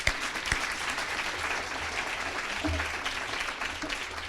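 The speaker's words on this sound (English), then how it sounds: "Let's give them a round of applause." Audience applause at a university nursing building gift announcement, a sustained, even clapping from a sizable crowd in a room, with some faint talk mixed in.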